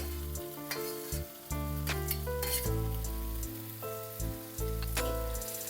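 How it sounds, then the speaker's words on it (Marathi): Cauliflower sautés in hot masala in a pan, a steady close sizzle with gentle stirring scrapes over it, accompanied by continuous background music and no talking. "परतून घेऊया व्यवस्थित. हलक्या हाताने ढवळा. अजिबात हार्शली करू नका."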